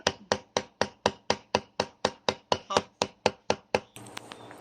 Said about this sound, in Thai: ฟังเสียงเขียงแน่น